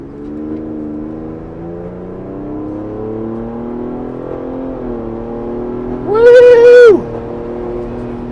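Ford Bronco Raptor cruising on a normal road in quiet exhaust mode, a low, subdued engine drone with gentle pitch shifts as it drives, plus a brief louder tonal burst near the end; no talking.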